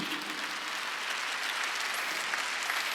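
A church congregation at a Wednesday worship service claps together, a continuous, even wash of many hands applauding, steady and fairly loud throughout with no voices rising above it.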